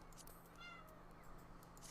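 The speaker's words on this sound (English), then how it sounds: "My cat's just sitting there meowing at my husband." A cat meows once faintly in the background of a room, under a steady hiss and low hum, with no speech.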